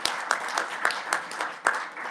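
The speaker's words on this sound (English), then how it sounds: "Let's have a big round of applause for the Ganser family." Applause for a visiting family in a state Senate committee hearing room at the Capitol, a brief spell of crowd clapping with uneven sharp peaks, fairly close and steady.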